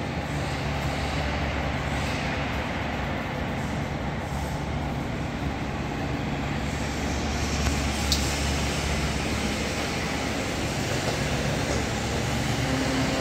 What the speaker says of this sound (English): This is an 11-inch Weiler fresh grinder with a spiral fluted barrel.